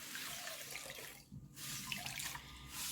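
Shredded potatoes wrung out in a tea towel, with water trickling and splashing into a sink in a steady wet patter that briefly dips before resuming, with no talking.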